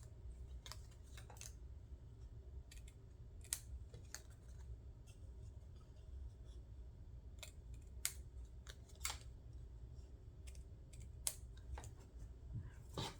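Scissors snip through paper, clipping off an extra square in a craft project: a series of quiet, sharp clicks and short snips spaced irregularly over a faint steady background hum, with no talking.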